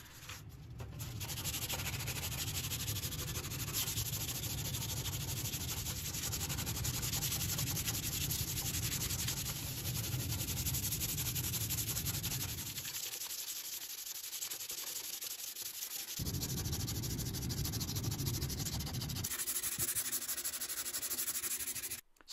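Fine sandpaper rubbed by hand over a 1930 Brunswick Model 15 radio chassis makes steady, close, scratchy strokes that run almost without pause, with a brief quiet gap before the rasping resumes.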